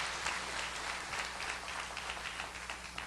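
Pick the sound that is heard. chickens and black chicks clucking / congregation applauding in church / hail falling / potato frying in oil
congregation applauding in church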